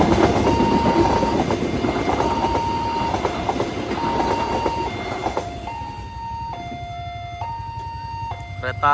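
A train rumbles past a level crossing at Silebu Topas, Serang, Banten, with clattering wheels while the crossing bell tone alternates steadily overhead, the rumble fading as the warning continues.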